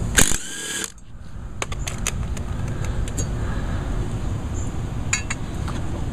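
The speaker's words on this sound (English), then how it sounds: "I find the easiest way to take a blade off is with an impact driver" An impact driver with a 14 millimeter socket working on the blade of a Craftsman front-wheel-drive self-propelled lawnmower: a sharp burst and clinks at the start, then scattered metallic ticks over a steady low mechanical rumble.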